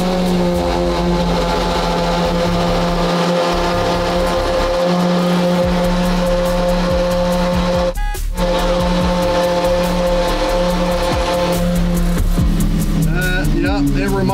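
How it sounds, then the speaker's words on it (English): Lamborghini SVJ V12 engine cold starting, a loud steady rumbling idle with strong low harmonics that stays high throughout, with a brief dip partway through and people talking over it. "Official SVJ cold start."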